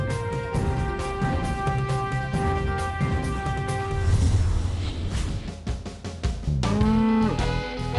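Cattle at a city sacrificial animal market low amid crowd bustle, with a long drawn-out moo near the end and other lowing earlier in the noisy background.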